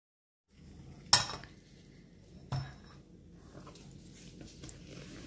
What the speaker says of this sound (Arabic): هكمل خفق